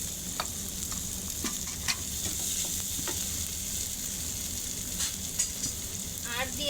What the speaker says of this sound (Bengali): এখন মশলা ভালো করে কষিয়ে নেব